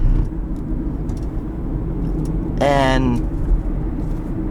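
A 2018 Hyundai Ioniq hybrid accelerating gently in sport mode at low revs, a steady low engine and road rumble with a brief spoken word over it.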